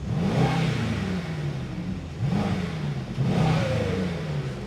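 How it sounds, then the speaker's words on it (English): A Mercedes-AMG GT63S E-Performance V8 blipped three times in quick succession, each rev rising and falling with a faint turbo whistle on top, close and with no talk. "instead of that we can hear the turbo."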